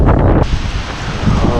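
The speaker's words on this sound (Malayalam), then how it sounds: "കാരണം അത്രയധികം കാറ്റാ" Strong wind roars past an auto-rickshaw riding through rain, a dense, steady rush of buffeting noise across the whole clip, loud and close, with a brief louder gust at the start.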